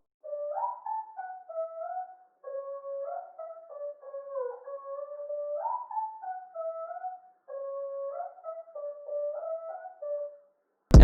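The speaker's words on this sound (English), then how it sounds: "the last thing I added was this vocal from Arcade that sounds like this" A processed vocal sample taken from Arcade, with its highs and lows cut, sings a gliding, wordless melodic phrase in repeated bursts with short gaps, filtered and mid-heavy, ending in a sudden loud click.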